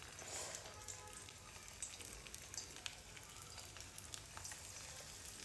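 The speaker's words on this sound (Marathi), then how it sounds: "आता तुम्हाला मी तळून दाखवते." Kothimbir vadi pieces fry in a little hot oil, a faint, steady crackling sizzle with scattered spattering pops.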